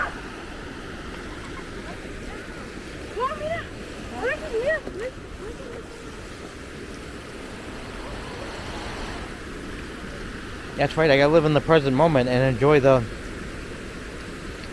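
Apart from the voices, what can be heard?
running water at the falls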